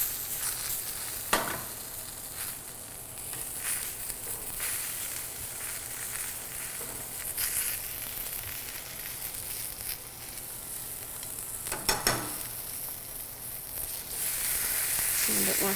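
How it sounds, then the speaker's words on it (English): Food sautés over high heat in a pan with a little fat, making a steady close sizzle with occasional louder bursts and scraping stirs. It grows louder toward the end, with no voices. "saute is high heat cooking with a small amount of fat"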